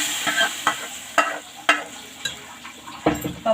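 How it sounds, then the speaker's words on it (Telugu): Hot tempering goes into mashed dal cooked with amaranth and spinach greens, a sizzle under sharp spoon clinks and scrapes against the pot, repeating in uneven bursts with no talking. "ఇప్పుడు ఆ తాలింపుని ఈ పప్పులో వేసేస్తాం."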